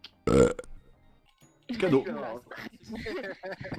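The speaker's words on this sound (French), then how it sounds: "on avait dit qu'il fallait arrêter de roter après 22h" One loud, close burp erupts alone, and a pause later people start talking.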